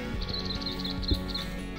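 Small birds chirp in Tennessee woods during an afternoon squirrel hunt, a run of quick high tweets over a low outdoor rumble, with one brief thump near the middle.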